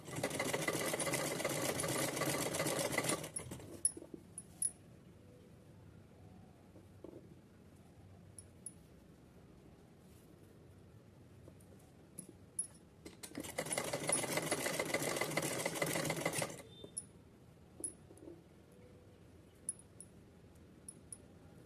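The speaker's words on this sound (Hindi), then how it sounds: "वहाँ ऐसे ही हम फोल्ड करके सिलेंगे इसको" A sewing machine stitches the folded joint of a small Kanha ji doll dress in two loud, steady runs of about three seconds each, with quiet handling gaps between them.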